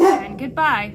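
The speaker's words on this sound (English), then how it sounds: "my dog's being super noisy." A pet dog gives two quick, loud, close barks, the second one overlapping a person speaking.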